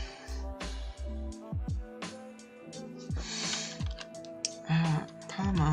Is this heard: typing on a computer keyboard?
yes